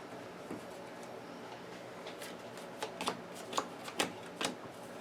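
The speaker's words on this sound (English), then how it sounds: "And then we shuffle the exploration deck." A deck of game cards from the Arkham Horror card game being shuffled on a tabletop, with a few quiet riffling bursts and soft card snaps clustered in the second half, faint and close.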